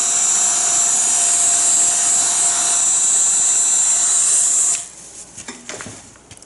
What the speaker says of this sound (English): It's not a blower, it's a heat gun.